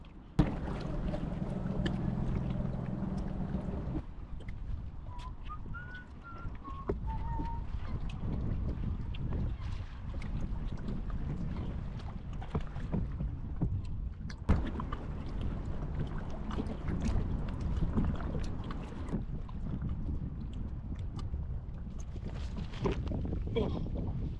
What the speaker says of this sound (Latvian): Tas tāds vējš.